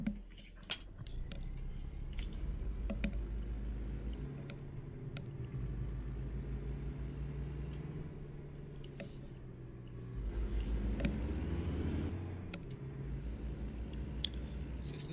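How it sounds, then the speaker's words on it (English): A truck engine in American Truck Simulator runs steadily as a low, continuous rumble, swelling louder for a couple of seconds near the end, with scattered small clicks and no talk. "I love the engine sound, by the way. It's absolutely amazing."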